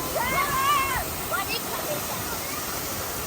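Water splashing and sloshing in a resort swimming pool, a continuous hissing wash with bursts of splatter, close by, while a voice and other voices carry over it.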